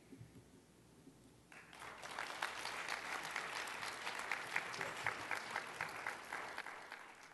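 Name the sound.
audience applause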